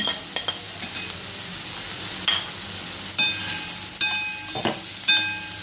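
Idlis with coriander are tossed and fried in a pan for masala idli, giving a steady sizzle with scattered metallic clinks and scrapes of a utensil against the pan.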